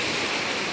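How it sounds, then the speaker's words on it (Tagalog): Sea waves wash steadily onto a shore with heavy trash on it, a constant broadband surf rush with no distinct breaks, close and fairly loud, with no voices. "Gandang dagat guys, oh."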